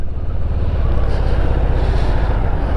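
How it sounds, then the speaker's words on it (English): A Harley-Davidson Street Bob 114 motorcycle at riding speed gives a loud, steady, deep pulsing engine drone mixed with wind rush, continuous throughout with no voices. "And of course you got that noisy engine as well"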